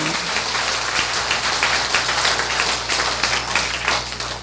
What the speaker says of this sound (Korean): 우리 하나님께 영광의 박수 돌리시기 바랍니다.